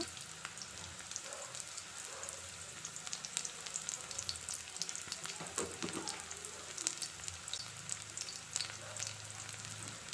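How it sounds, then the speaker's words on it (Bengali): Chopped onion fries in oil with black cumin (kalonji), a faint, steady sizzle and crackle with occasional light stirring ticks, no voices. "কালো জিরেটা একটু ভাজা হলে পেঁয়াজ কুচি দিলাম। পেঁয়াজ কুচিটা একটু নেড়ে নিয়ে স্বাদ মতো লবণ দেব।"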